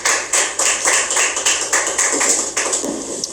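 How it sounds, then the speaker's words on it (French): Audience applause at a church gathering: dense, steady clapping from a crowd, fairly loud and close, with no voices over it for the whole stretch. "sous vos applaudissements, s'il vous plaît"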